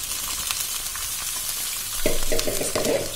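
Chopped ivy gourd pieces hiss in hot oil, then a spoon starts stirring at about the two-second mark, bringing louder scraping and sizzling close by.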